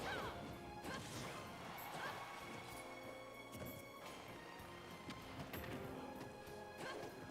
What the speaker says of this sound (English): Watching the grenades bounce off the shield has been working out really well for it.